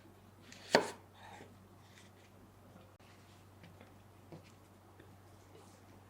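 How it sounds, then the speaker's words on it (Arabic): A knife cuts potatoes into thick fingers on a board, making one sharp loud chop followed by a few softer, sparse cuts and light taps in a quiet kitchen. "بجهز البطاطس بتقطيعها على حسب رغبتكم. أنا حقطعها إلى أصابع سميكة شوي"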